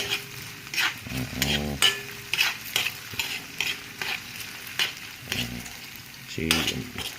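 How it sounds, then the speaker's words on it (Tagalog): Cooking oil sizzles and crackles steadily in a pan while a utensil stirs and scrapes, with brief hums of a voice in between, while beef with potatoes is cooked. "Patuloy siyang kumukulo yung mantika."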